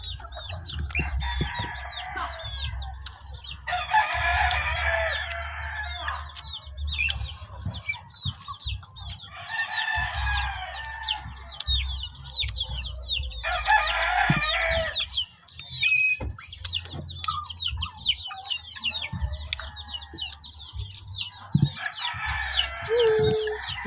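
Chickens cluck around a house while a rooster crows repeatedly in bursts. The calls are close and loud, mixed with scattered bird chatter and low background rumble.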